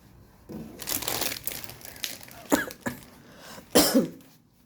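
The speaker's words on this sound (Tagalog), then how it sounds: "Inuubo tayo guys" A person coughs several times in a row indoors, short harsh bursts spaced over a few seconds, close to the listener, with faint crinkling of a plastic bag in between.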